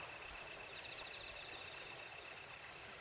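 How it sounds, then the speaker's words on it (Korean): Autumn crickets in a reed field chirping steadily, a thin, continuous high trill of many insects at low level, with faint background hiss and no talking. "귀뚜라미 소리네요."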